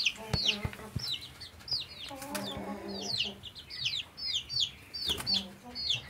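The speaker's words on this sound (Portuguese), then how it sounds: "É a galinha mais velha que eu tenho na criação aqui." An old Brahma hen clucking and calling in a backyard flock, a string of short repeated clucks with other poultry sounds mixed in, fairly close.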